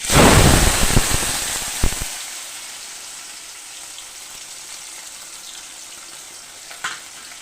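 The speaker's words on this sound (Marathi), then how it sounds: "तडका देऊया यात आपण टाकूया टमाटर" Tomatoes dropped into hot tadka oil: a loud burst of sizzling and frying that fades within two seconds to a steady, quieter crackle, with a small clink near the end.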